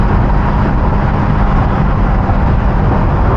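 Ferrari 348 engine with an aftermarket modification, a loud, sustained roar that stays steady and close throughout with no talking.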